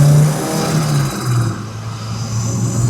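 A Saab 900 Turbo pulls hard through second gear, its engine note steady and loud from start to finish with a continuous droning rise under boost, no voices over it.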